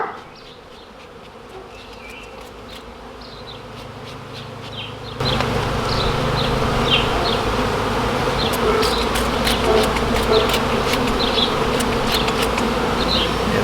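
A dense swarm of honeybees hums loudly and continuously outdoors around a yucca tree as they are coaxed toward a nucleus hive, the buzz jumping louder partway through and staying full and close, with no speech.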